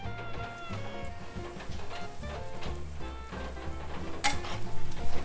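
A spiced mixture roasting in ghee in a pan during Ganesh Chaturthi cooking, giving a steady close sizzle with occasional scraping of the spoon and a brief clink near the end; no talking.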